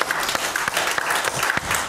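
A church congregation gives a hand-clapping round of applause at the close of a Sunday morning service, a dense, steady clatter of many hands throughout with a few sharper claps standing out.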